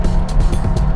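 Porsche 911 converted into an off-road trophy truck, its engine pulling hard in fourth gear with a loud, steady low roar and rough broadband rumble, close up and continuous with no talk.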